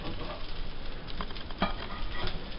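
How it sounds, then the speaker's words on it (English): Welsh cakes about half an inch thick frying on a griddle, a steady close sizzle and crackle with faint stirring scrapes, no voices. "we're frying it up in the griddle"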